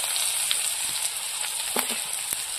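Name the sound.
onion and garlic frying with five-spice in fish oil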